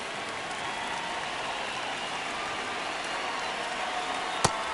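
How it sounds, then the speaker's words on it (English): Video game baseball stadium crowd in the ninth inning of a one-run game, a steady, dense roar of distant spectators filling the whole stretch, with one sharp crack near the end. "Crowd locked in right now."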